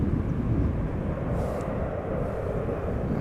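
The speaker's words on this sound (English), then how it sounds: "we also have an A330 from Finnair that is taking off to Helsinki, passing us by." A Finnair Airbus A330 taking off from Amsterdam Schiphol toward Helsinki produces a sustained jet roar, heard at a moderate distance as a steady rumble with no one speaking.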